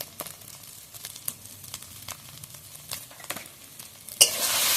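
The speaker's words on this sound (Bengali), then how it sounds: "মশলাটা আমি ভালোভাবে কষিয়ে নেবো" Spices such as chilli and turmeric powder stir-fried in a pan for a spicy egg curry, with faint scraping strokes and a soft sizzle, ending in a louder burst of hiss.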